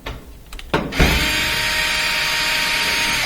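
A power drill whirs on removing Phillips head screws from an appliance being restored, with a few short clicks and bursts before settling into one loud, steady whine close by.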